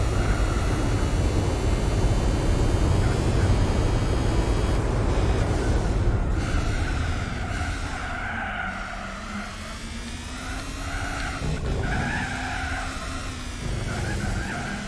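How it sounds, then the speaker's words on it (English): A racing car's engine in Gran Turismo 4 drones loudly and continuously, rising and falling in pitch as the car accelerates and shifts, with faint tire noise. "The engine sounds horrendous."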